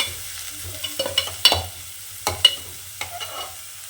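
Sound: frying onions in a pan

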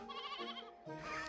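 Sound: sheep bleating

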